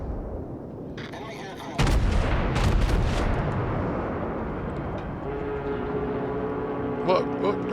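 Warship naval guns fire in the video game World of Warships, a heavy booming salvo that rolls into sustained rumbling battle noise, close and loud, with a faint horn-like tone near the end.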